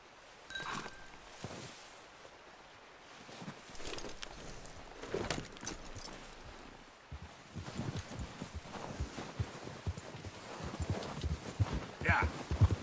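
Horse hooves clip-clop steadily during a ride in the video game Red Dead Redemption 2, with faint rhythmic footfalls under a man's occasional speech.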